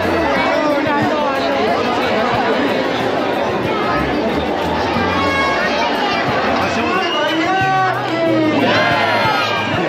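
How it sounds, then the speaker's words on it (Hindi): Dense crowd chatter at a busy Dussehra fair, with many overlapping voices, scattered shouts and whoops, and children calling out, loud and steady throughout. "ये देख सकते हैं आप भीड़, बहुत ही गंदी भीड़ हो रही है आज।"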